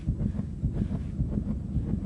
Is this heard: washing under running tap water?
no